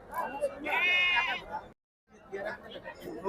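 A single native-breed sheep bleats loudly for about a second amid people chatting nearby at a goat and sheep market in Sakri, followed by a brief silence and more background voices.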